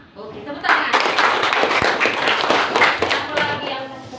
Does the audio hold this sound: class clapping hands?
yes